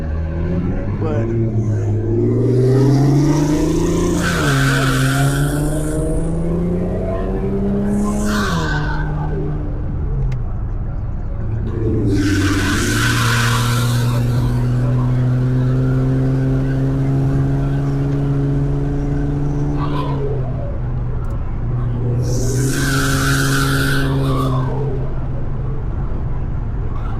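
An Infiniti Q50S with turbos and loud intakes spins, its engine revving in long rising and falling pulls while the tires skid and squeal in several loud bursts, close and continuous.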